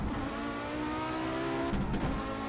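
An Audi Quattro S1 rally car on the Highland circuit in a racing game, its turbocharged engine accelerating out of the pits with a steady rising drone and a brief shift-like break near the end.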